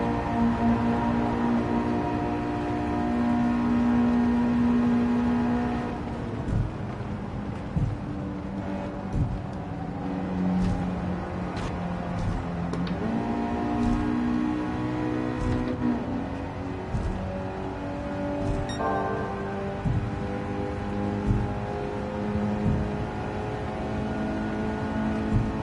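Race car engines in the Gran Turismo 7 video game, a steady droning whine with rising and falling revs and some shifting as the car slipstreams another, heard alone without talk.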